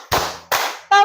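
A classroom group claps in a counting game, giving two sharp bursts of many hands clapping together at once, followed by a brief tonal sound, all loud and close.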